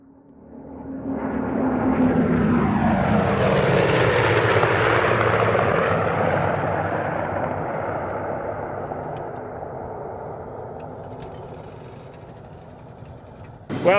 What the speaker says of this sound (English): the F7F built by Grumman was probably the highest powered propeller airplane ever built